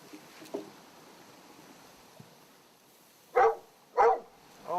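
A dog named Jake barks beside an outdoor cooking grill: two loud, close, sharp barks come in quick succession after a quiet stretch of faint rustling, with a third starting at the end.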